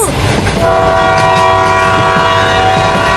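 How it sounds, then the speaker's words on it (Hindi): Cartoon toy train starting to run, a loud steady rumble with clattering wheels under a sustained tonal horn-like whistle throughout, with no talk. "ट्रेन चलने लगी, अब हम स्कूल में जल्दी पहुँच जाएंगे"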